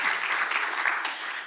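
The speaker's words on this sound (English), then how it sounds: "we have to clap for Anna." Steady applause from a crowd at a Hungarian American Coalition gala in Washington, dense clapping that holds evenly for the whole moment with no voices on top.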